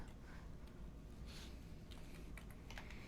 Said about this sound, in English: I'm going to type it in because they have a spot.